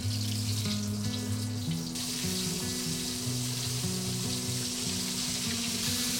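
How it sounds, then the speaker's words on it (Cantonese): Starch-dusted fish fillets deep frying in hot oil give a steady, close sizzling hiss throughout, with a tonal music bed running underneath. "蘸一蘸啲生粉啦，然後抌落去啦，開始炸噶啦"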